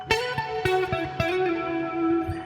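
An electric guitar plays a short solo phrase through effects, a few picked notes with sharp attacks that settle on a sustained, ringing, slightly distorted passing tone, played alone with no talk.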